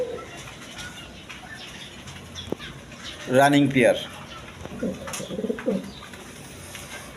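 A pair of German Beauty pigeons coos in low bursts, with a sudden loud flurry of wing flapping midway, while someone talks.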